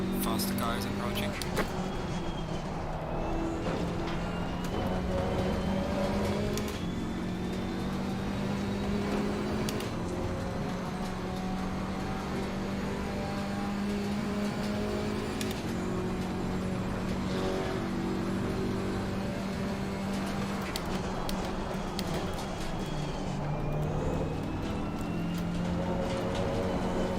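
Assetto Corsa Competizione race cars, including a KTM X-Bow in a six-hour event at Monza, roar continuously with engine pitch sweeping up through gears and dropping, loud and sustained, with a voice talking over the engine noise.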